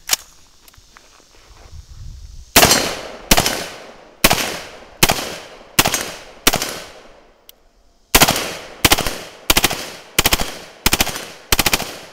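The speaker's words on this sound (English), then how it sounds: "But this is a select fire M4" Bursts of automatic fire from a select-fire M4 rifle, loud and close, in a rapid series of short strings separated by brief pauses, with no talking.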